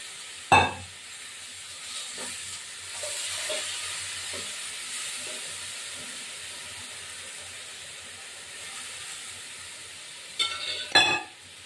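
Spice paste of mustard and poppy seed sizzling in a pan with tilapia and drumsticks while being stirred, a soft, steady hiss with occasional scraping strokes and a few sharp clatters of the utensil against the pan.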